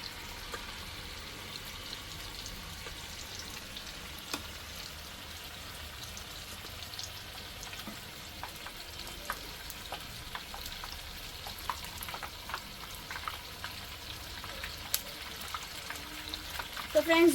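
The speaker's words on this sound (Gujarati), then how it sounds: "અહીંયા સ્ટીક પોટેટો ફ્રાય કરવા મૂકી દીધે છે" Stick potato rolls fry in hot oil with a steady, soft crackling sizzle that runs throughout at low level, dotted with small pops, and grows slightly busier toward the end.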